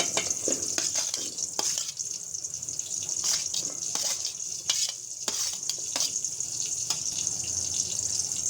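Chopped onion and cut pointed gourd frying in a pan, a steady hiss under repeated scraping strokes of a spoon stirring at an uneven rhythm.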